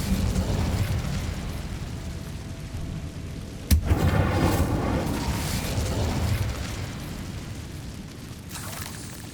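An Incendio fire spell goes off in Hogwarts Legacy, a single sharp burst followed by a roaring whoosh of flame over steady game ambience, fairly loud and close.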